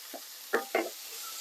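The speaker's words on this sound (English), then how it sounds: "Give it a good stir." A spoon scrapes and stirs through a sausage pasta bake sizzling in a pan, giving a few brief close scraping strokes over a soft steady hiss of frying.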